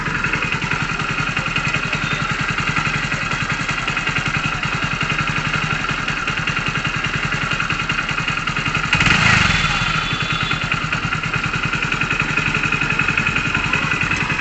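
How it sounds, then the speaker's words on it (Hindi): A BS6 motorcycle engine with an overheating problem idles steadily after slowing down, its close, even chugging running for the whole stretch, with a brief louder surge partway through. "अब देखिए इंजन की चाल ये कम हो चुकी है।"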